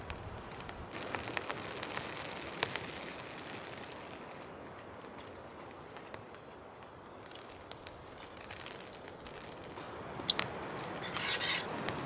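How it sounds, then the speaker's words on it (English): Rain starting to patter on a tent in the wilderness, a faint, dense crackle of scattered drops with a few sharper taps, continuous throughout. "Little bit of rain starting to come in."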